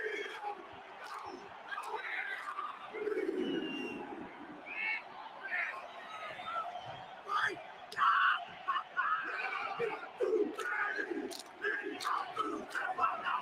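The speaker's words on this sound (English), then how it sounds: "Listen to the crowd." Stadium crowd at an England versus New Zealand rugby match, a broad roaring babble with swelling shouts and chants as the All Blacks perform their challenge, sustained and distant with faint voices over it.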